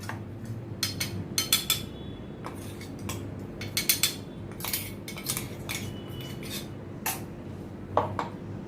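Grated masala scraped from a grinding jar onto a plate, a quick run of metallic clinks and spoon scrapes against steel, close and irregular, with no voices.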